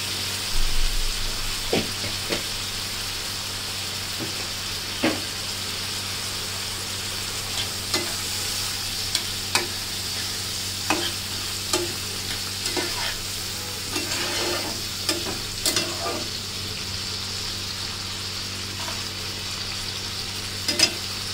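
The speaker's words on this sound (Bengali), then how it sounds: "চিংড়ি মাছগুলো একটু ভাজা হোক" Prawns sizzle steadily in hot oil in a pan, with cumin just added, and scattered clicks and scrapes of stirring sound over the continuous frying hiss, close and clear with no talk.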